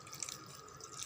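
About half a tumbler of water is poured into a pan of bottle gourd curry being cooked as a South Indian dish. It makes a steady splashing, trickling rush with small drips, close up and alone.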